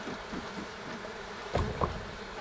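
Faint, steady honeybee buzzing hums throughout at the hive, with a couple of brief soft knocks near the end.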